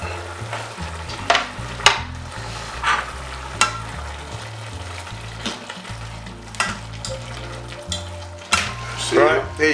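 Minced meat, chopped potatoes and diced carrots frying in a pan for a Nigerian meat pie filling, with a steady sizzle under repeated spoon stirring and scraping, close up, alongside a low background hum.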